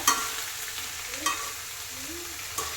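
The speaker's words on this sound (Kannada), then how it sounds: "ತಿರುಗಿಸ್ಬೇಕಾಗುತ್ತೆ ಮಿಕ್ಸು ಈರುಳ್ಳಿ ಎಲ್ಲ ಮಿಕ್ಸ್ ಆಗಬೇಕಲ್ಲ ಅದಕ್ಕೋಸ್ಕರ" An onion mixture stirred in a frying pan for a spiced green gram dish, with steady close sizzling and three distinct scraping strokes of the spoon against the pan.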